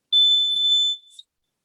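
A homemade intercom call-display circuit sounds its buzzer once, a loud, steady, piercing electronic tone lasting nearly a second, followed by a brief weaker tail and then silence.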